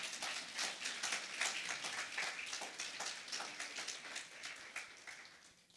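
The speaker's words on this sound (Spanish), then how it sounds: "Denle un aplauso al Señor" A church congregation applauds with a dense, steady patter of many hands clapping, heard at a distance, fairly faint and tapering off at the end.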